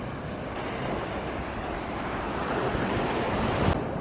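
Ocean waves roll onto a beach on a bright day, a steady broadband wash of surf with wind noise buffeting the microphone, continuous and fairly loud throughout with no talking.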